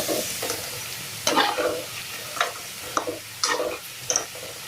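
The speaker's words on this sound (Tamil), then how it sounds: "இது கொஞ்சம் நல்லா வதங்கட்டும்." Mushroom masala ingredients sauté in a pan for a street-style dish, giving a soft steady sizzle punctuated by several sharp scraping stirs of a spoon, close and moderately loud with no talking.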